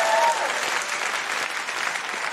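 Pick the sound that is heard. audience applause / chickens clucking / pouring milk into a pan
audience applause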